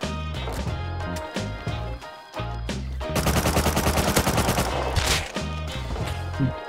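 Rapid AK rifle bursts crackle in a Rust firefight, loud and close, with a sustained full-auto stretch in the middle and shorter volleys on either side.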